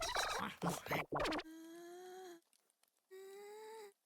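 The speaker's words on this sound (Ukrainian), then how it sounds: "Це якась пташка." Cartoonish bird in the game Chuchel lets out two drawn-out, steady tonal calls separated by a short pause, clear and alone after a moment of speech.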